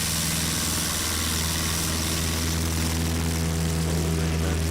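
A STOL airplane at a short-takeoff competition in Gallatin, Tennessee roars at full power during its takeoff run, a loud steady propeller and engine drone with strong low hum throughout, no talking.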